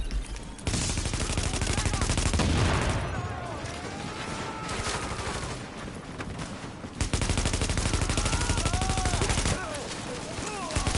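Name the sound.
gunfire on supplies in the video game The Division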